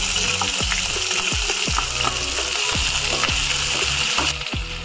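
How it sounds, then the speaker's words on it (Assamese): Onions sizzle steadily in hot mustard oil with garlic and chilli, a dense continuous crackle with repeated sharp spatula scrapes and taps against the pan, close and loud throughout. "লগতে পিঁয়াজখিনিও দিলোঁ।"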